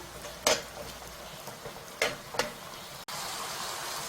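Pork being stir-fried for Korean jeyuk bokkeum, a spicy pork dish, with a steady low sizzle broken by a few sharp scraping stirs of the spatula in the pan, heard up close and without talk.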